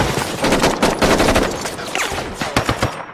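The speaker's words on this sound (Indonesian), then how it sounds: "peluru dari tembakan itu berhasil menembus beberapa mobil" Large-calibre automatic weapon firing in a heist film shootout, a loud rapid burst of gunshots in uneven clusters with brief pauses and echoing impacts.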